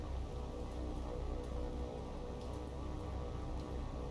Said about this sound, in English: Very rainy day